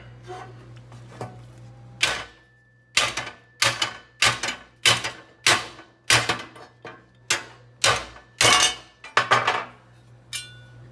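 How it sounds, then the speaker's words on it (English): Hammer strikes drive out a steel rivet with its head ground off to free a piece of angle iron, about a dozen sharp metallic whacks in an uneven rhythm, close and loud, with no talking. "sometimes you need a little help from a hammer."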